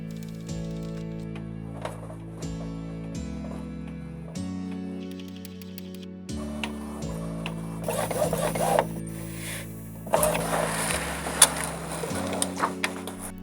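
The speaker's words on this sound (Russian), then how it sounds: "Печатаю я на струйном принтере Epson" An Epson L312 inkjet printer runs through its cycle of stepped motor whirs and shifting tones, with mechanical clicks and rattling paper-feed bursts growing louder near the end; the sound is fairly quiet and close.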